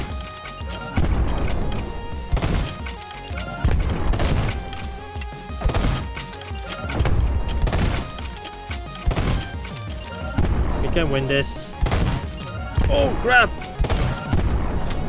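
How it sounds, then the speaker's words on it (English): Explosions and crashing impacts in the video game Eastward, a mech-suit battle, with repeated loud bursts and thuds over game music while a player talks throughout. "Oh crap, these explosions, man."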